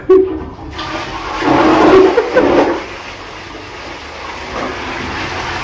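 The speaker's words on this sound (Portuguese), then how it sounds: "Agora, uma descarga com acelerador de moto." A toilet flush worked by a motorcycle-style throttle grip: a click, then a loud rushing gush of water that peaks and drains away, leaving a softer trickling refill close by.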